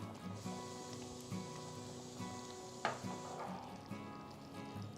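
Chicken goes into a sizzling Chinese-style stir-fry with sauces in a home kitchen. A low, steady frying hiss runs throughout, with one sharp clatter of the pieces landing partway through and faint stirring noises after.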